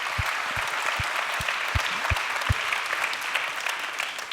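A large audience applauds at a business awards ceremony in a hall, with dense sustained clapping and a series of low, evenly spaced thumps running beneath the first half.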